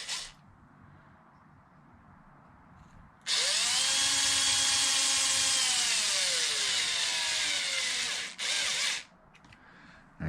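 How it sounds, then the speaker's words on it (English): A power driver whirs loudly and steadily for about six seconds, then stops briefly before a short restart, setting bolts into a carbon fiber part on an Arrma Limitless GT RC car. Quiet room tone comes before it. "So I guess we should put these bolts in to hold it."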